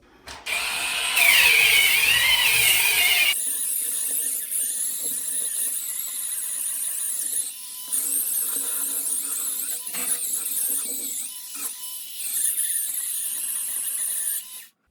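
A loud, high-pitched Dremel Versa electric scrubber whirs and squeals continuously, its pitch shifting as the brush presses and scrapes against bathroom mold, with brief dips in between.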